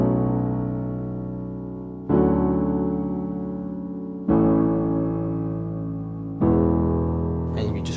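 Piano plays the chorus of a song as four struck chords, each left to ring and fade before the next, a little more than two seconds apart, alone and moderately soft.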